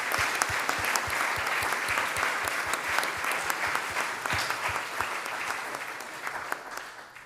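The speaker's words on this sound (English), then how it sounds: "Can we give a round of applause for our young people starting off in the year?" A church congregation at Sunday worship applauds in a sustained, even patter of many hands that fills the room for several seconds, then thins slightly toward the end.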